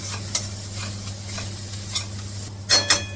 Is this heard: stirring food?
yes